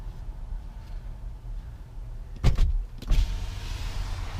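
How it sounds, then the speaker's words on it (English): Power windows on a 2014 Mercedes-Benz B250e electric car run in two short motor whirs about half a second apart, each ending in a thump, heard close inside the cabin over low background hum. "Touch power windows."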